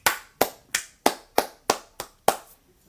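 Eight crisp single hand claps in an even, unhurried rhythm, close and fairly loud, with short silent gaps between them and no talk.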